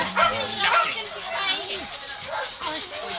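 A dog gives a few short, yappy barks and whimpers close by, interleaved with people talking in Dutch in the background.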